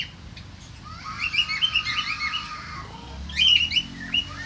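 Java sparrows inside their clay-pot house chirp in bright, rapid bursts, a cluster of calls in the middle followed by a sharper flurry near the end, close by over a quiet low hum.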